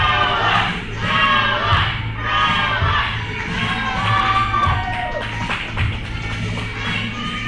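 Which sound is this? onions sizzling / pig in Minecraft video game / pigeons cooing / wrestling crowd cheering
wrestling crowd cheering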